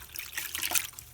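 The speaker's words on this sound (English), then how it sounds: "Get some fresh water on that cloth" Tap water trickling and splashing onto a cloth at a sink while soldering copper pipe inside a wall, a brief steady running stream close by.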